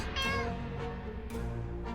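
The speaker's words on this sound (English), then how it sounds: "Pet the cat! Pet the cat!" A cat in the video game 60 Seconds! lets out a couple of drawn-out meows, clear and close, with no talking over them.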